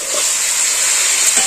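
Cauliflower and potato pieces frying in hot oil in a pan, a loud steady sizzle with a bright hiss and a few soft stirring scrapes, close up and without any voices.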